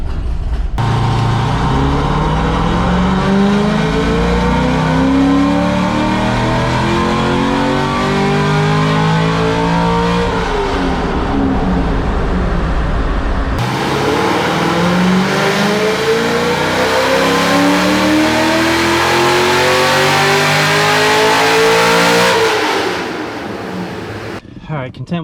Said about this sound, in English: I'm gonna make another full throttle run now.